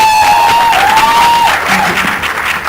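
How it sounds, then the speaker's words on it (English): Audience applause at the Mary Kom trailer launch, a Bollywood film event, as a dense burst of clapping with some cheering, loud and steady across the clip, easing slightly toward the end, with a faint whistle-like tone early on. "Big round of applause for her."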